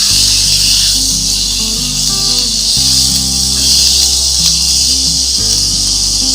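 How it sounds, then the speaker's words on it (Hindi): Mutton tripe (ojri) fries in a pan with ground red chili, producing a steady, close hiss and sizzle that runs unbroken beneath a faint low hum. "दो से 3 मिनट तक मैं इसको फ्राई करूंगी।"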